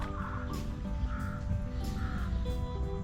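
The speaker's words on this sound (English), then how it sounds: "there's a lot of birds that go up in here." Several crows caw repeatedly in a loud, steady series among palm trees by a pond under construction, with a constant low rumble of background noise underneath.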